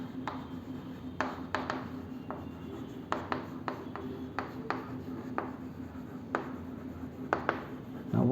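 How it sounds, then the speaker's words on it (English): Marker or chalk writing on a board during a maths class, a series of scattered short strokes and taps over a faint steady hum, fairly quiet and without talk. "So first I am writing"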